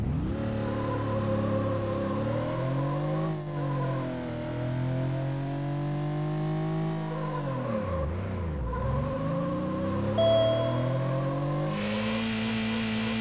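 Engine of a Porsche in the racing game Need for Speed Porsche, revving and shifting loudly and continuously, with pitch rising and falling through gear changes, a deep dip near the end, and brief tire squeal alone without talk.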